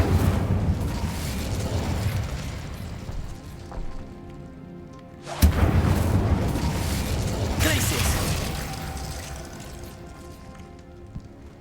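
Spell-cast bursts of the Incendio fire spell in Hogwarts Legacy, a sharp whooshing blast partway through followed by a sustained fiery roar, layered over dense game sound with someone talking.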